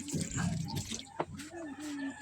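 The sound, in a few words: water being poured into cooking pot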